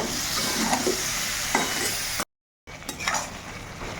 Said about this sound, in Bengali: এই যে আলু আর সমস্ত মশলা একসঙ্গে ভালো করে কষছি